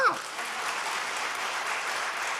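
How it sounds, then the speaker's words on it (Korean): A church congregation claps together during a Korean worship service, a steady, even wash of applause that fills the whole short stretch at moderate loudness. "여러분, 목사님 힘내시도록 박수라도 한번 쳐."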